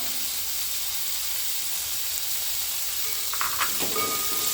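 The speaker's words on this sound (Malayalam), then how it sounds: "നന്നായിട്ടൊന്ന് വഴറ്റിയെടുക്കാം" Sliced onions sauté with half a teaspoon of salt in hot oil for Kerala-style chicken stew, giving a constant close sizzling hiss, with a few light clinks of stirring near the end.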